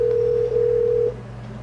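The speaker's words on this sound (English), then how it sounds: "That's a phone!" A steady, loud telephone tone sounds during a call for about a second, then cuts off, leaving a low background hum.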